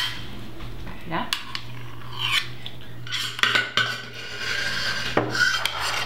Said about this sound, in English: since we have an eclair pan, I think that we should just spoon it in